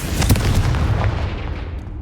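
A Confringo spell explosion in a Hogwarts video game lands as one heavy, loud boom with a sharp opening burst that rumbles and fades over about two seconds.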